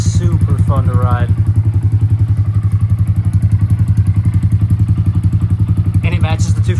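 A motorcycle engine fires up and settles into a steady, loud, rapid thumping idle close by, with brief talk over it at the start and end.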